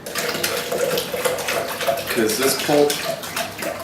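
Water pours into a blender for green juice, a loud steady gushing stream from a jug with a few hollow splashy gurgles as the jar fills, while a person speaks over it.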